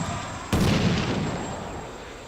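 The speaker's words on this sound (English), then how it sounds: "And we are bombarding these trenches here." Artillery in the war video game CM Shock Force bombarding trenches: a single sharp, heavy blast lands suddenly, then rumbles and decays slowly over a steady background hum.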